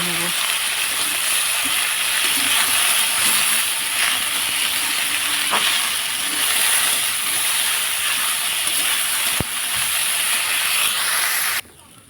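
Potatoes frying with turmeric in a pan make a loud, continuous sizzling hiss that stays close and even before cutting off abruptly near the end.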